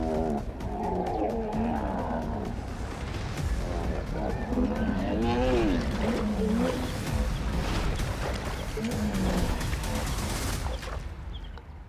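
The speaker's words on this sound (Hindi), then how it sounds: "इनकी दहाड़ पूरे दलदल में गूंजती रही।" Big cats roar and snarl while fighting in a swamp, repeated loud growling roars rising and falling over a dense rumbling background for the whole stretch.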